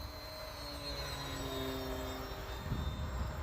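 An Arrows RC Bearcat model airplane with a two-blade prop flies by, its motor a continuous, fairly faint whine with shifting tones over steady background noise.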